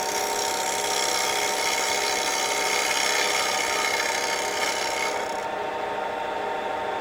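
A homemade turning tool with a 1/4 inch bit cuts wood on a lathe, making a steady, close raspy scraping hiss that holds even throughout with no voices.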